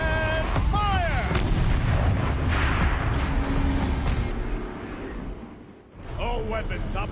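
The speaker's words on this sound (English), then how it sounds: "And fire!" A tank's main cannon fires in a PS4 war game, a heavy boom with a rumbling tail under game voices and engine noise, followed by a second burst of combat sound near the end.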